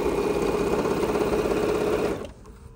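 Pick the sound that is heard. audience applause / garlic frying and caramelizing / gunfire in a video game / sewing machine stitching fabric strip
sewing machine stitching fabric strip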